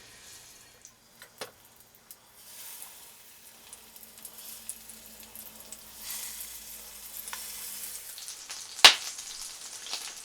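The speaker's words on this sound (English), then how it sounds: "it's beginning to splatter. So let's put the splatter guard on and let it fry" Quiet sizzling and crackling of food frying in olive oil in a pan, building slightly, with a few small clinks and one sharp metallic tap near the end; no talking.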